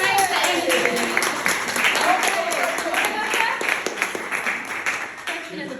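An audience at a spiritual centre's opening-night mediumship event claps in a steady, moderately loud patter. Voices and cheering mix in and over the clapping.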